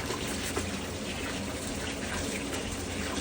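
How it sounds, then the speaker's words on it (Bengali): Water poured by the barrel into a large pot of dal with Langra mango, a steady, full rushing gush heard close and continuous. "ডালের মধ্যে এখন জল চলে যাচ্ছে"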